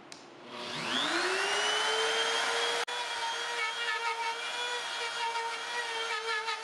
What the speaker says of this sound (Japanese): 可動部の板にメモリ用の窓を開けていきます。